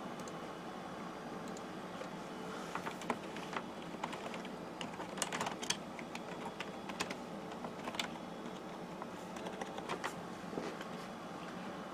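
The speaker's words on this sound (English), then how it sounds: "Let's type up a little document." Steady, fairly quiet typing on a computer keyboard running IBM OS/2 Warp 4, with irregular key clicks and a few louder strokes over a low background hum, and no talking.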